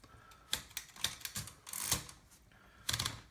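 A Remington Noiseless Deluxe typewriter types in a sparse string of muted, dull keystrokes with soft mechanical clatter, close by and quiet, with no talking.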